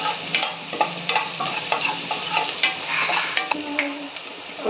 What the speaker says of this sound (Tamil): நல்லா கொஞ்சம் ஃப்ரை ஆகட்டும்.